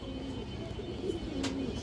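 Domestic pigeons, including a female, cooing in a loft; low, faint murmuring coos drift under steady background noise.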